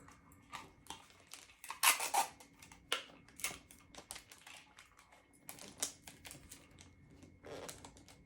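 Tape being pulled and pressed onto folded Christmas gift wrap paper around a boxed Coach North South mini tote, a series of close, quiet crinkles, pats and short tape rips with no talking.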